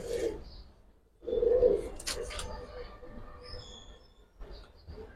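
Giribaz military pigeons coo in short, soft bursts, close by, among faint clattering and a squeaky rumble in a quiet room.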